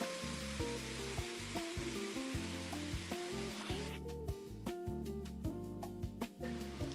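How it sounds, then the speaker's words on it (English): A small water feature fountain at a coffee shop runs with a steady hiss of splashing water under background music. "A little water feature."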